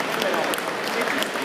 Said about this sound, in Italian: un grande applauso agli organizzatori e a tutti coloro che lavorano per questo sport